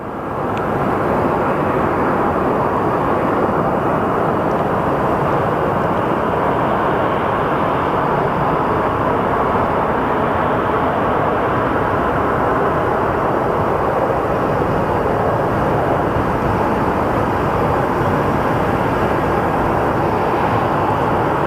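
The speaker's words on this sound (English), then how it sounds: "Let's watch this A319 touchdown." An Airbus A319 touches down at Phoenix Sky Harbor, its engines a steady, loud broadband roar that holds without break across the whole stretch, with no voices.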